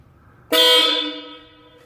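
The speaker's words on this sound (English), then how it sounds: "So this should work when I push the horn." A vehicle horn wired through a new relay blasts once, loud and close. The bright tone holds strong for about half a second and then gradually fades before cutting off.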